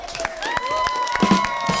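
Children's game show crowd applauding the Green Parrots team after they score a point, with brisk clapping and cheering mixed with shouts and a sustained musical tone underneath.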